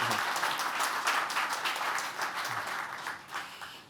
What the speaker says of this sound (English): let's give applause to Martin